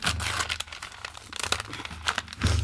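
Kraft paper crinkles and crumples steadily, close up, in dense rustling bursts as a wrapping is pulled open.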